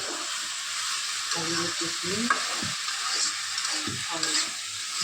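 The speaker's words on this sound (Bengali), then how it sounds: "এটা আমরা ভাজিতে মারা দিতেছি পুঁইশাকের ফল ভাজি" Pui shak (Malabar spinach) fruit frying with dried fish in a pan, a steady broadband sizzle with repeated scraping stirs through the middle, close and moderately loud, with no talk.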